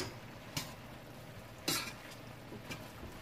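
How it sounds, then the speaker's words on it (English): A spoon stirs lasagna meat sauce cooking down in a pot, making soft scraping and a few sharp clinks against the pot over a low steady sizzle, with no talking. "just keep stirring it"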